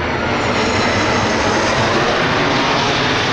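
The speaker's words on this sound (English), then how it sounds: "This is the millionth plane that's come by" A loud, steady roar from an airplane passing overhead fills the whole stretch, a broad continuous drone with no talk over it.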